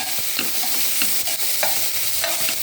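Bell pepper sautéing in a pan gives a steady close sizzle, with a few soft stirring scrapes and taps over it.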